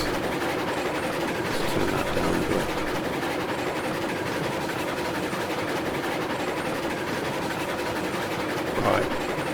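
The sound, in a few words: loud train running on track layout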